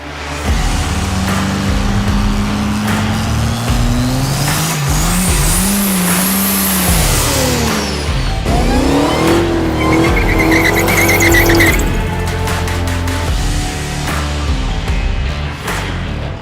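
A drag race between a Kansas-built Ford Mustang called the Smokestang and a factory Dodge Demon: loud, close engines roar and rev, with a rising whine sweeping up, then a second surge of acceleration dominating throughout.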